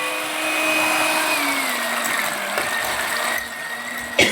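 Electric hand mixer beating three whole eggs with 100 g of sugar for almond and chocolate chip croquants, a steady whirring motor with a droning tone that shifts pitch slightly, close and continuous with no talk.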